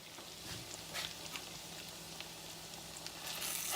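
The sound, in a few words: tuna patties frying in butter and oil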